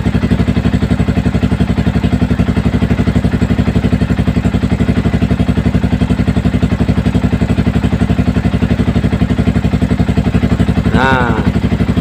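A Yamaha Vixion motorcycle engine runs steadily close by, a constant dense rumble with an even firing pulse and no clear revving; a short voice-like sweep appears near the end.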